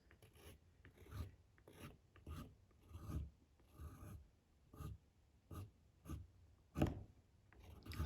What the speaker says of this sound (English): I'm just going to scribe into this some lines to create some trees.